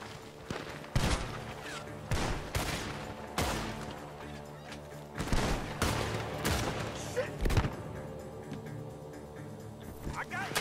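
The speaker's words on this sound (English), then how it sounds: "Gunshots are coming from that barn." Gunfire rings out from a barn in Red Dead Redemption 2, with repeated loud shots that come in irregular volleys and sharp bursts. Booming reports stand over a steady background din.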